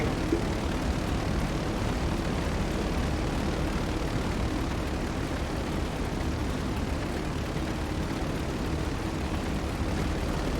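A fighter plane in a combat video game gives off a constant, roaring engine drone that stays loud and unchanging throughout.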